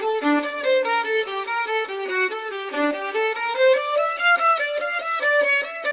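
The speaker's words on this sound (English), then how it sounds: "Meet Ace Studio's AI violin, where your controller becomes a world-class string performance." An AI-generated violin performance played from a keyboard controller in ACE Studio gives a sustained, singing melodic line with smooth connected notes and rich overtones, steady and fairly loud, with no talking.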